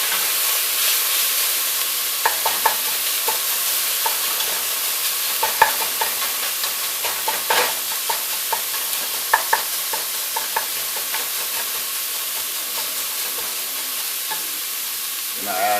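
Local ground beef browns in a hot pan with a continuous, loud sizzle and hiss. Scattered scraping taps come from stirring throughout, close up, with no voices.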